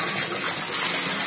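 Water gushes steadily into a drainage pit that holds a Grundfos drainage pump, a continuous rushing wash at moderate level with no break or voices.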